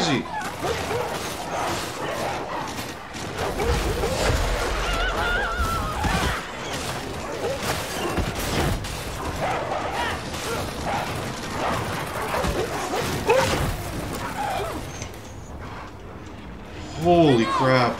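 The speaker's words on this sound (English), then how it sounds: "Oh my god, these dogs are crazy!" Dogs bark and yelp repeatedly in the video game Warhammer 40K: Darktide, mixed with busy combat noise while a person talks excitedly over them.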